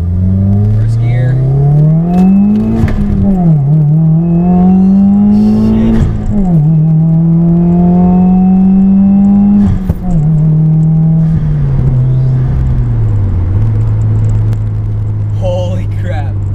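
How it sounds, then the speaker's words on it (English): A Stage 2 tuned car pulls hard from a roll-in launch, its loud engine note rising through the gears with distinct dips at each shift, close inside the cabin, with a voice over it. "I'll do a nice little roll-in launch, if that makes sense."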